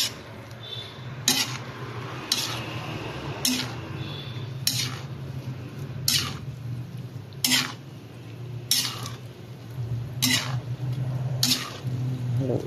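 Bihon rice noodles with plenty of mixed ingredients are stirred in a pan, the utensil scraping and clinking against the metal in regular strokes about once a second over a low, steady cooking hiss.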